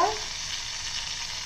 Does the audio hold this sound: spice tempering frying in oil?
yes